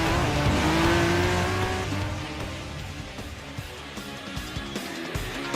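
An NSX Group 4 race car in the Gran Turismo Sport video game revs hard with a rising engine tone and a tire squeal, then fades to quieter, clipped engine sounds.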